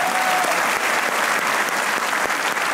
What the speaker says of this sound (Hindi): बजा लें, ताली बजा लें, आपके हाथ हैं, बजा लें।